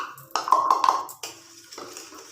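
Custard powder and flour being mixed in a bowl for pudding: a few sharp close clinks and taps of a utensil against the dish, then softer, fading scrapes.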